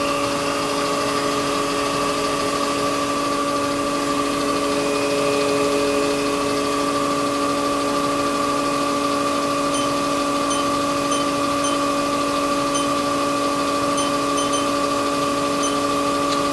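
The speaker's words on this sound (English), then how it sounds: "right now I'm going to go ahead and fire up the spindle. We'll start it off at 2500 RPMs." Haas Super Mini Mill vertical machining center spindle running at 2500 RPM, a steady, even machine hum with sustained tonal whine, constant and close throughout with no talk.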